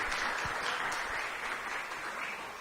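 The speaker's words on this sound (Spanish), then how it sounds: "Le damos un aplauso" Applause welcoming a guest at a church communications day gathering, a continuous crowd of hands clapping, steady and moderately loud from start to finish, gradually easing toward the end.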